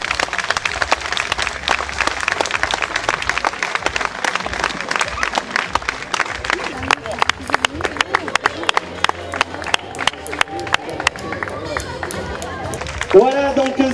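An audience at a nautical festival applauds, thanking the people who built a canoe. The clapping is dense and steady, with a crowd's murmur around it, and it thins toward the end as one voice breaks in.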